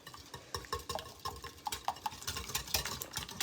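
A whisk clinks rhythmically against a bowl, beating crustless spinach quiche ingredients with pepper in quick, steady close strokes.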